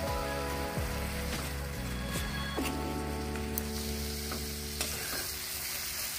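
Spice paste with ground turmeric frying in oil for a rohu fish curry, a steady close sizzle with occasional stirring scrapes and a pan knock, continuous throughout with no voices.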